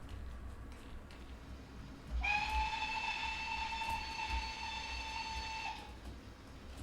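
A model steam locomotive's sound decoder gives a steady, sustained steam whistle lasting several seconds over a faint background hiss, then stops abruptly, with no voices.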